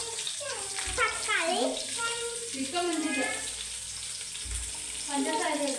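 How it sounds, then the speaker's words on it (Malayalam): Curry leaves, ginger and garlic hit hot oil with a loud, spattering sizzle that rises and settles in waves, heard close under music, with no talking. "ഇനി കറിവേപ്പില ഇട്ട് കൊടുക്കാം ഇഞ്ചി വെളുത്തുള്ളി ഇട്ട് കൊടുക്കാം"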